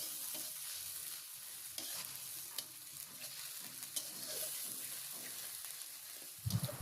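Ground paste of several onions sizzles softly in hot oil for a fish curry while a spoon stirs it, giving a steady quiet frying hiss broken by occasional scrapes.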